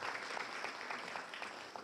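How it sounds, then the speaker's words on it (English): An indoor audience at a university celebration applauds with steady, even clapping that lasts the whole short stretch at moderate loudness, with no voices over it. "Give her an applause."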